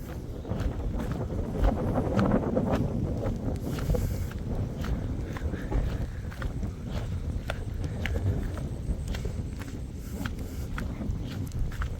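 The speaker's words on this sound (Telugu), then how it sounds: "గాలి విపరీతంగా వేస్తుంది" Strong wind on a cloud-covered hilltop near Visakhapatnam roars and buffets the microphone continuously, a heavy low rumble with gusty bursts and occasional faint knocks underneath.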